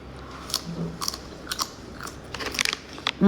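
Someone chews crunchy tamarind close to the microphone, with a series of sharp crisp bites and crunches at irregular intervals over a quiet background.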